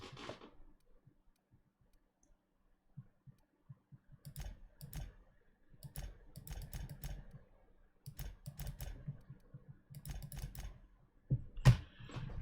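A cat walks across a computer keyboard, producing scattered bursts of soft key clatter and clicks, quiet and close, in irregular clusters separated by short pauses.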